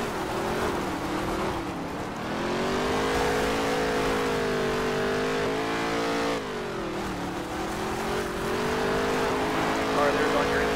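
Race cars in a racing video game roar steadily through ten seconds, their engine pitch rising and falling as the cars accelerate and lift through corners.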